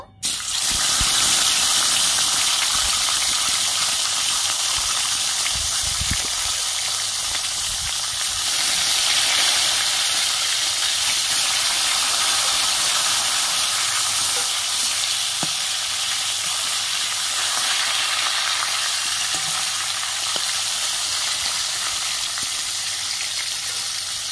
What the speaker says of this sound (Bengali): কড়াইয়ের তেল গরম হয়ে গেছে, এবার আমি মাছগুলো ভেজে নেব।